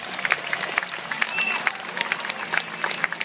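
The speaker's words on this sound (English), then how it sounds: "So give him a round of applause." A zoo audience claps after a seal training show at Taronga Zoo, scattered applause at moderate distance with a few sharper nearby claps, under faint background voices.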